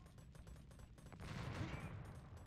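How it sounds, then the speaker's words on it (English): Massed hand cannons firing in the strategy game Age of Empires II, a rapid rattle of overlapping gunshots that swells into a heavier burst midway, fairly faint within the game mix. "That's a lot of hand cannons."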